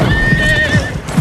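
A horse whinnies in a loud, wavering cry while its hooves clip-clop in a quick, close rhythm underneath.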